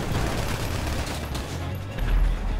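Gunfire in GTA V, a dense, continuous rattle of rapid shots close by, steady and loud throughout with a heavier burst near the end.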